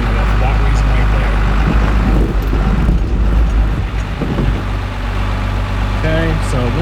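Cummins-swapped truck on 30-year-old axles rolls down into a ditch, its diesel engine droning steadily and loud under heavy wind buffeting and cab rattles, with someone talking over it.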